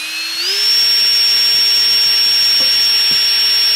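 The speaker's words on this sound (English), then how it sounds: "I'm just going to use a universal drill bit to drill a hole right in the middle." A power drill with a universal bit spins up against a melamine or plastic workpiece, its motor whine rising and then holding a steady, loud, high tone close by.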